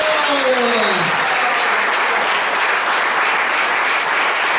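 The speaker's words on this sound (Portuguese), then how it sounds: "Um salve de palmas para Jesus." A church congregation at an ICPI service in Aerolândia bursts into loud, sustained applause that fills the whole room, with a brief voice trailing off at the very start.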